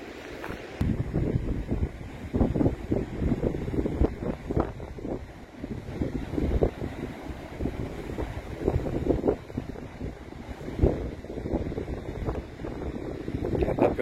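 Strong wind buffets the microphone at the seaside cliffs of Praia da Falésia near Albufeira, a steady roaring rush with louder gusts throughout, close and harsh, with no one talking.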